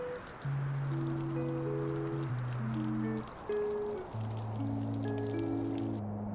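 A steady hiss of rain fills the background beneath gentle melodic music, continuous and fairly quiet.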